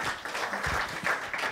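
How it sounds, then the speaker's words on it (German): A live audience at a Lausitz sports talk show in Cottbus applauds steadily, a dense, even wash of many hands clapping at once, filling the room throughout. "Applaus für Detlef Irrgang und Jörg Scherbe"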